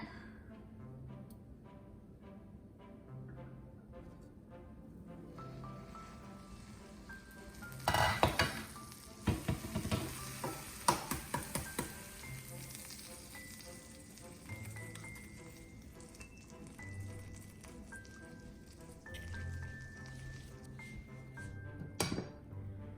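An egg cracked into a clay pot of rice with Chinese sausage sizzles faintly in a quiet kitchen, with a burst of louder clattering and crackling midway and soft sizzling before and after.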